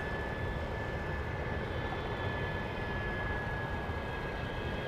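An airplane arrives on runway 13 left at Dallas Love Field, a steady broad engine roar with a faint high whine, heard at a distance and holding even for the whole stretch.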